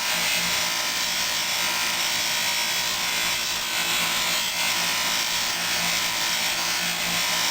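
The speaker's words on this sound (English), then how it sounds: "proceed to polish all four bolts" Steady, continuous rubbing and buffing as bolts from a Maytag model 92 gas engine are polished, a dense even scrubbing texture that stays loud and close throughout with no pauses.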